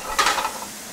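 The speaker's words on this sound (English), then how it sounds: "I'll saute those onions with a little salt" Chopped onions with a little salt sauteing in oil in a pan, a brief close sizzle with a stirring scrape near the start that quickly fades to a soft hiss.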